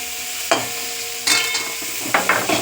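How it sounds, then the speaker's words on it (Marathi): Cabbage, tomato and capsicum frying in a pan: a soft background sizzle broken by several quick scraping stirs, close and clear, with no talking. "तर आता टाकायचं आहे कोबू, टमॅटो, ढोबळी मिर्च."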